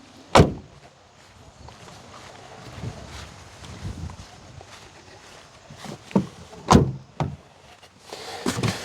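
Several sharp thuds and clicks of 2025 Ford Maverick XLT Hybrid doors opening and shutting, over a low steady rumble of the running engine; no voices.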